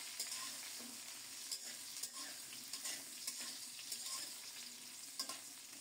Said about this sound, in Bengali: আলুর সাথে গাজরটা একটু ভেজে নেব